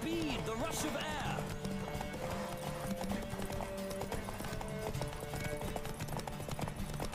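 A horse gallops in The Witcher 3 video game, with a steady clip-clop of hooves and a whinny near the start, all under a dense, continuous layer of game sound.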